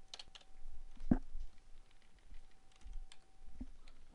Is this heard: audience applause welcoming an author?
no